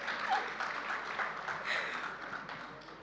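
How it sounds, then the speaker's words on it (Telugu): Crowd applause at a Telugu movie pre-release event, a fairly faint, even rustle of many hands clapping in a large space, continuous and distant-sounding with no clear individual claps. "చప్పట్లు."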